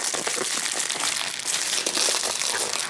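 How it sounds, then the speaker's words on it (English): Packing tape being pulled into a strip and pressed onto a book mailer, a steady crinkly, crackling rasp that runs close and continuous with no talk. "Take some tape, make a strip, and then tape this down."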